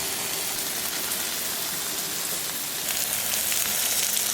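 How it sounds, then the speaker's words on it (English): Jimmy Dean breakfast sausage patties sizzle steadily on a Camp Chef Sidekick griddle, a continuous close hiss and crackle with no talking, growing slightly louder toward the end. "The sausage is cooking along nice. Just some Jimmy Dean breakfast sausage pattied up."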